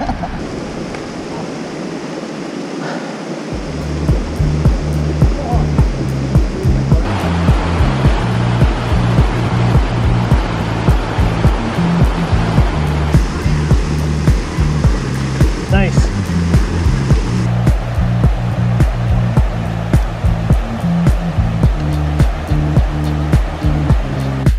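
A river on Cape Breton Island rushes with a steady, loud broadband flow that starts abruptly and holds near and constant, with a low hum underneath and a voice talking at times.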